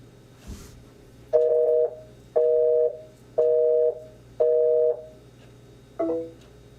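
A telephone being dialed in a radio studio: a soft click, then five evenly spaced steady two-tone beeps, each about half a second long, with a shorter final tone, clear and close over low hum.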